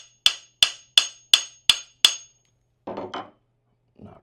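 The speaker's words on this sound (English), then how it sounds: "I like to use a mallet or a hammer to go ahead and hammer it into the side of it" Hammer tapping a pin into the side of a rifle stock: six sharp, evenly spaced metallic taps in quick succession, close and clear, followed by a couple of softer handling knocks.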